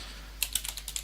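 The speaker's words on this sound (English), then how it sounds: "All I have to do is type in SHA-1" Quick burst of computer keyboard typing entering a command, about eight close, crisp keystrokes in an irregular run after a short quiet start.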